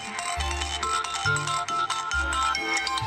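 A mobile phone ringtone plays loudly for an incoming call, a bright repeating melody over pulsing bass beats, continuous and without talk.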